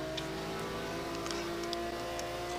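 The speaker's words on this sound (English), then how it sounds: "we are now on board with John Sportelli driving the ferocious McLaren" Onboard engine of a McLaren GT1 race car in a racing video game at Dubai, holding a steady, loud, high-pitched whine and drone throughout with no let-up.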